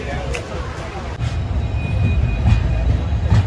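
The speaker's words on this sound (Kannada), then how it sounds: "ಫೈನಲಿ ಬಂತು ನಮ್ಮ ಯಶವಂತಪುರ ರೈಲ್ವೆ ಸ್ಟೇಷನ್" A train pulls into Yeshwantpur railway station with a steady, loud rumble of rolling wagons, faint squeals and clatter, as people talk nearby.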